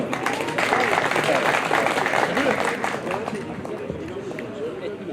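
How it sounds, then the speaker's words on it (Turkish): Audience applause welcoming a city council president to the podium at an event, a dense, continuous wash of clapping mixed with crowd chatter and murmuring voices. "alkışlarınızla İnegöl Kent Konseyi Başkanı Haydar Cerrah Beyefendi'yi kürsüye davet ediyorum."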